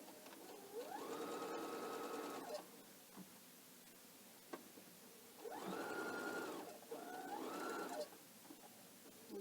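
A domestic sewing machine runs in bursts while back stitching a pillow case at a 2.0 stitch length, whirring for about two seconds, pausing, then two more close runs, with no talk.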